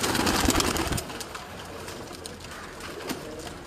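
Pigeons cooing in a household coop in Mirpur, Azad Kashmir, with soft low calls strongest in the first second, then quieter cooing and faint rustling.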